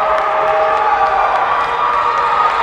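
A loud, sustained roar from a crowd at a high school boys' basketball game, Howard Lake versus Maple Lake, with dense shouting and cheering filling the gym continuously throughout.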